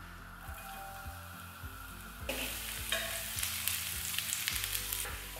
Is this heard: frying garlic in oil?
yes